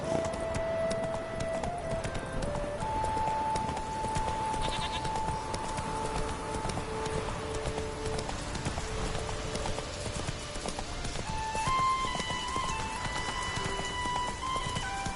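A horse trots across terrain in the video game Witcher 3, hooves clip-clopping in a steady, continuous rhythm over ambient game sound and faint musical tones, with no talk.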